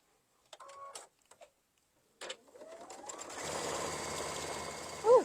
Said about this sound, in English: we're just going to top stitch the 2 long sides on this one